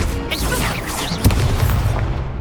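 The Confringo fire spell blasts during combat in the video game Hogwarts Legacy: a loud, close boom hits mid-clip over a dense bed of game effects and rumble.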